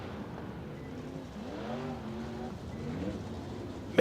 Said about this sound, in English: So Jason, another group of perhaps mostly Friesen Performance IMC Modifieds.